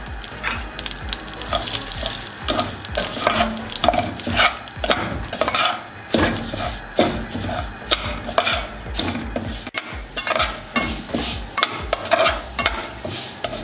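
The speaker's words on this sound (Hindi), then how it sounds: "दलिया को हमने अच्छे से 2 से 3 मिनट के लिए भून लिया" Broken wheat porridge roasts in ghee in a pan, a steady sizzle under continual scraping and stirring strokes at close range, with no talk.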